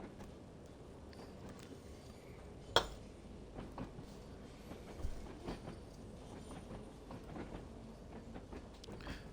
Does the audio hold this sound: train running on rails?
yes